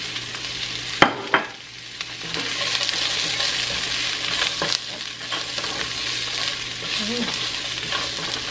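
Garlic browning in oil in a pan as onion is added, sizzling steadily and loudly, with a couple of sharp clatters early on and stirring throughout, no talking.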